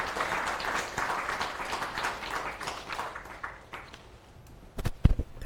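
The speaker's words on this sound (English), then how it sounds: "a big round of applause for the conference" Conference audience applause at the close of a session on Bay of Bengal infrastructure, a dense round of clapping that thins out toward the end, followed by a few loud, close handling knocks.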